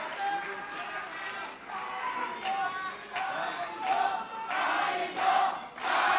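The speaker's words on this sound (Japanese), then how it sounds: "カイトコール、敗れたチャンピオン清宮海斗もこの大歓声であります" A pro wrestling crowd at a NOAH GHC title match chanting the name of the defeated champion in loud, rhythmic cheers, swelling in repeated bursts while a commentator speaks over them.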